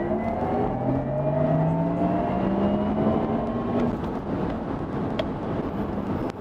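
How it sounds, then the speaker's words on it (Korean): Porsche Taycan Turbo Cross Turismo electric car accelerating hard, heard from inside as a steady loud whir with rising electric motor tones and road and wind noise, no talk. "가속 페달을 한번 밟아볼까 해서 킥다운 버튼까지 가는 도중에 그 사이에 속도가 붙습니다"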